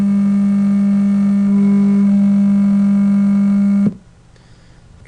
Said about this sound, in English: here's going to be the sound of a pure 200 hertz sine wave